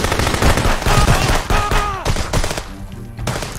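Gunfire in Contraband Police, several loud closely spaced shots in quick bursts with ringing echoes, thinning out toward the end.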